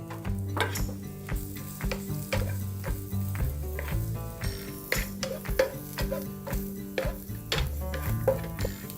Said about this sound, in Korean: 그리고 해바라기유를 살짝 둘러줍니다. 당근을 넣고